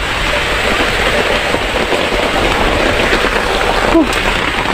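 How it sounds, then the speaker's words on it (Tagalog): Steady video game rain hisses loudly and evenly throughout, with a brief sharp click near the end and no talking. "Ulan na naman."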